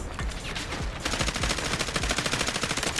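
Rapid automatic gunfire in the Delta Force shooter game, bursts of closely spaced shots running continuously and loud, getting denser and sharper after the first second, with no talk.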